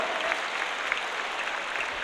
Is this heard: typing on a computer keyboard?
no